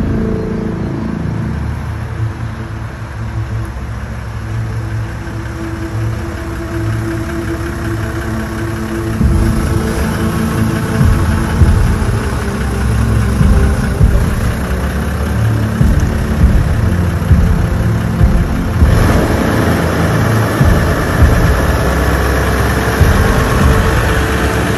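A Toyota Land Cruiser Troopy engine idles steadily, a loud, close, low rumble that thickens and grows rougher partway through, with no voices.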